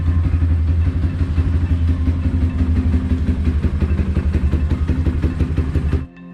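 A motorcycle fitted with a power pipe exhaust idles close by, a steady low rhythmic chugging with light mechanical clatter that holds evenly for about six seconds before cutting off abruptly.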